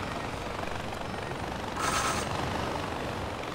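Helicopter in the video game Far Cry 4, a steady broadband rotor and engine drone throughout with a brief louder swell near the middle, heard without talk.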